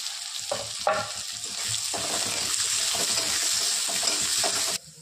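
Onion and garlic with cumin frying in a pan for pithla, a steady sizzle with stirring scrapes and clatters running throughout, loud and close with no talk, cutting off abruptly near the end.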